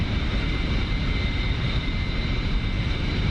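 Constant droning engine and rotor noise of a Bell 47 helicopter in flight in the DCS combat flight simulator, a steady broadband roar with a faint high whine.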